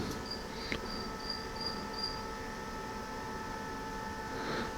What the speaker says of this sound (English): show you what kind of sound you're getting off the fans